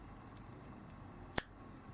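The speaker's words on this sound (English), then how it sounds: "So I'll snip that off" A single crisp snip of scissors cutting off a loose end of crochet yarn on a pink awareness-ribbon piece, one short close click alone against quiet room tone.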